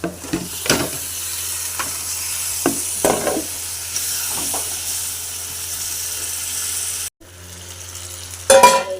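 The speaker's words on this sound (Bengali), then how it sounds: "দিয়ে আমরা এবার কষি নিয়ে মাংসটা দেবো মাংসটা ঢেলে দিচ্ছি" Meat tipped into a hot pan after red chilli powder, sizzling and hissing steadily with a few clattering stirs and scrapes, then a brief pause and a renewed louder burst near the end.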